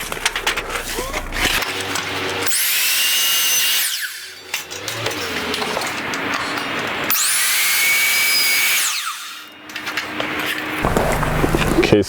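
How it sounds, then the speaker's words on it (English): A miter saw cuts garage door weather strip in two loud whining bursts, each spinning up, slicing through and winding down, with quieter handling noise and shuffling between and around the cuts. "I'm gonna head over to the miter saw and make my cuts"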